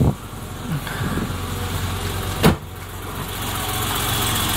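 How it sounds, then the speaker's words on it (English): A cold BMW E30 touring that has been sitting a while idles steadily, its low engine hum close and even, with one brief sharp knock midway and no talking. "I don't want to rev it any more than that as it's cold and has been sitting for a while."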